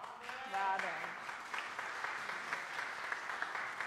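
A church congregation applauding during a Sunday worship service, a steady moderate round of clapping that runs throughout, with a voice speaking over it near the start.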